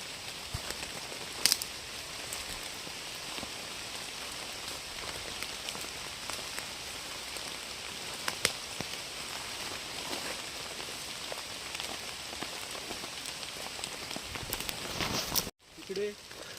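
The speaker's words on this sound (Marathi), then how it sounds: "चला पाऊस चालू झाला आहे" Rain falls in a dense forest in the Konkan region, a steady close patter on leaves and ground that continues evenly throughout and cuts off abruptly near the end.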